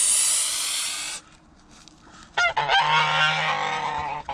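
A domestic goose honking close by, with a sharp hissing call followed by loud, harsh honks, and a steady background hiss underneath.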